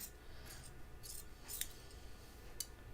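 Scissors snip through fabric, trimming a seam edge on a 1940s-style dress, giving several crisp, quiet cuts at an uneven pace with no talking.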